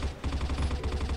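Rapid automatic gunfire from a Type-56 rifle in the mobile shooter CrossFire Mobile, a fast even burst of shots heard close and steady throughout.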